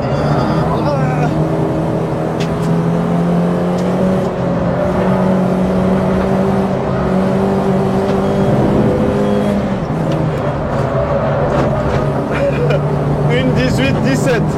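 Peugeot 206 RC engine revving and accelerating on a race track, a steady loud drone with rising and falling pitch throughout, with people talking over it.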